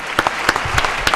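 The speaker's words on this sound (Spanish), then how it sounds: "Bien, un aplauso, muy bien." A small studio audience clapping during a talk broadcast, a sparse, uneven patter of distinct claps with a few sharper hits, fairly close and alone without talk.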